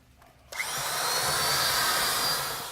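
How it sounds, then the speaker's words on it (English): Electric drill fitted with a paddle churning a bagged mix with water, starting abruptly and then whirring loud and steady with a wet, gritty mixing texture, no voices. "You want that drill paddle completely submerged while mixing."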